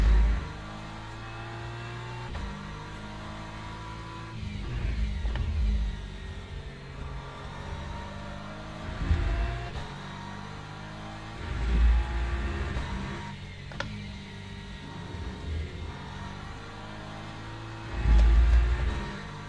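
Race car engine from Le Mans Ultimate, a racing game, droning steadily with repeated rev surges and downshift blips every few seconds, loud and continuous with no talking.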